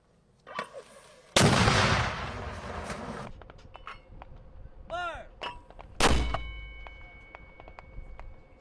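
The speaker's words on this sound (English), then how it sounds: "U.S. Marines firing the 155mm M777 Howitzer is a heavily gun from artillery" An M777 155mm towed howitzer fired by U.S. Marines gives a loud, sharp boom that rolls and echoes for a couple of seconds. A second heavy blast follows later, with metallic clangs and pings scattered around it.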